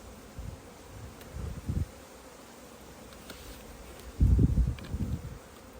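Honeybees swarm around an open hive as the beekeeper works the brood box and honey super, their buzzing swelling in close, loud bursts that rise and fall against a quieter droning hum.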